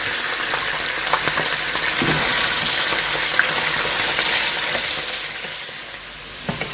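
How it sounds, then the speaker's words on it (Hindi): Chicken pieces fry in hot oil with whole spices for a wedding-style degi korma, giving a steady, loud, dense sizzle throughout, with a few faint stirring clicks. "ये हमारा चिकन जैसे ही थोड़ा सा लाइट गोल्डन हो जाएगा तो इसका मतलब है कि हमारा चिकन फ्राई हो चुका है"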